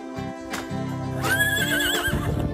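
A horse neighs loudly and close by at a riding camp at Le Horlay in Belgium, a long wavering whinny rising after a few low snorts and shuffles.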